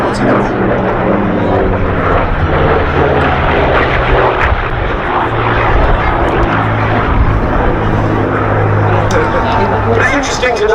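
A heavy P-47 fighter flies past at the Duxford Air Festival, its piston engine a loud, continuous throaty drone with a voice speaking over it.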